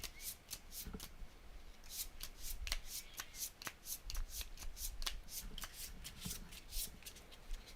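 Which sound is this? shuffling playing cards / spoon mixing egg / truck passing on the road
shuffling playing cards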